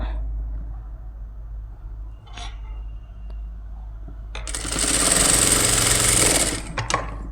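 Sewing machine stitching piping onto a lined blouse, a fast steady mechanical whir that runs loud from about the middle to near the end after quieter handling noises, with no voices.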